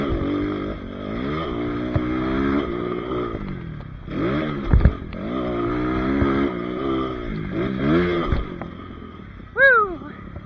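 A Kayo K6R dirt bike fitted with a 300cc two-stroke kit rides hard nearby, its raspy engine rising in pitch through several gear shifts, dropping and climbing again, with a brief clatter and one short whoop.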